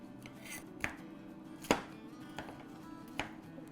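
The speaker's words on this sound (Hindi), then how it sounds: "अब टोमेटो को थोड़ा सा डाइस कर लेते हैं, टमाटर को तो छोटे छोटे उसके पीसेस कर लेते हैं" A knife dices tomatoes into small pieces on a board for samosa chaat, giving a handful of sparse, crisp chopping taps, each distinct, against quiet kitchen background.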